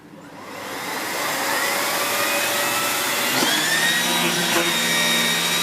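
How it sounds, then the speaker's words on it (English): A Miele S8730 HEPA canister vacuum cleaner starts up by remote control and rises to a steady, loud whining roar that holds evenly, with a high tonal whine drifting slightly in pitch as it runs indoors in a kitchen. "So we use the remote control and switch the machine on."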